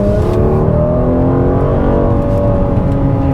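A Mercedes-AMG GLC43 engine holds a loud, steady, droning note close by, its pitch drifting only slightly throughout with no voices over it.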